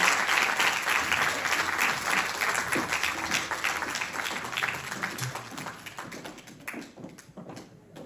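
Sustained applause from an audience at a fado festival in Mação greets a sevillanas dance group, dense clapping filling the hall and tapering slightly toward the end.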